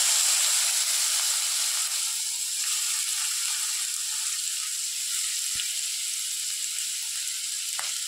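A large chopped onion frying in a pan with cumin for a capsicum masala gives a loud, steady sizzle and hiss. A couple of faint clicks of stirring come through near the end.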